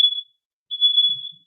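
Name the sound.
smoke alarm beeping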